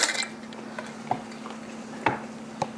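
Metal canning jar lids handled during quick vinegar pickling, a few light clinks and taps spaced out against quiet, beginning with a brief clatter.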